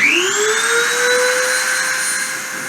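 A CNC machine spindle spins up to 30,000 RPM before a deposition run, a loud steady whine rising quickly in pitch over the first half-second, then holding a bright sustained tone with little change.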